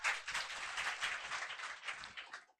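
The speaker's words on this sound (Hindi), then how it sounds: "एक बार इनके लिए जोर से ताली बजा दीजिए" A classroom of students breaks into steady, fairly faint applause for a couple of seconds, many hands clapping together before it quickly dies away.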